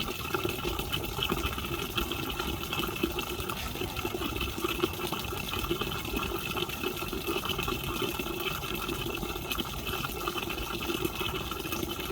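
Fresh water poured steadily into a drinker for chickens, a continuous gushing fill that runs unbroken and fairly close.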